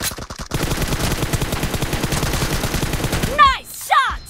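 Video game gunfire during a team deathmatch, heard as a dense, sustained burst of rapid automatic shots that ends with a couple of sharp game sound effects.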